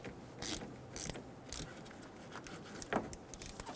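A ratchet with a 10 mm socket works the negative battery terminal on a Toyota Tacoma, giving quiet, close clicking bursts in a few short spurts against a faint background.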